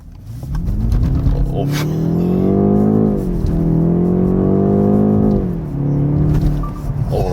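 A BMW 530e M Sport plug-in hybrid sedan on summer tires accelerates hard on a rough winter road, its engine note climbing loudly in pitch, easing briefly, then rising again.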